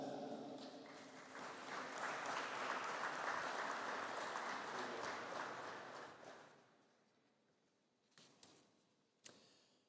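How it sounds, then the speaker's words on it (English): Applause from the audience at a university conferring ceremony for graduates, swelling and holding for several seconds before fading, followed by a few sharp isolated knocks or clicks near the end. "Could I ask for a collective round of applause for the graduates of the Higher Diploma in Science and Agile Software Design?"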